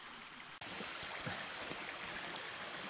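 A river stream flows along the Batu Anchau trail through dense forest in Similajau National Park, Bintulu, Sarawak: a steady, close, broadband rush of water that is interrupted only by one momentary dropout.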